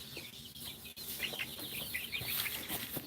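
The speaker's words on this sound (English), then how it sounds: "So I'll show you our chickens." Backyard chickens cluck and chirp steadily throughout, several birds close by in a continuous chatter with no talking.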